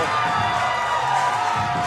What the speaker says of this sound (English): listen to everybody here in the building chanting the man's name